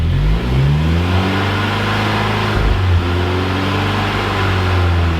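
A Hyundai Genesis engine is held at a steady elevated rev to bleed air from the coolant system, a loud close droning hum with a brief dip and recovery midway, running alone without talk.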